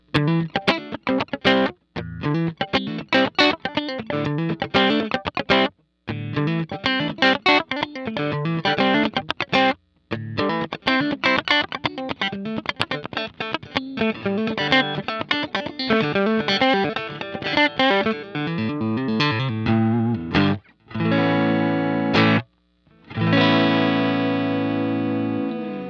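A Donner DST-400 electric guitar on its third pickup position plays funky, choppy rhythm riffs with short gaps between phrases, loud and steady, with a few ringing chords near the end.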